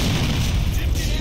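A grenade blast in the game GTA 4 Episodes From Liberty City, a single deep, loud boom with rumbling low end filling the short moment, no voices over it.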